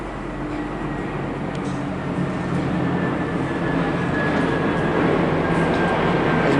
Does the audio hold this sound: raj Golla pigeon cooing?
no